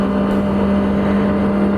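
A Kawasaki ZX25R motorcycle drones steadily while riding, its engine holding a constant, loud tone with no talk.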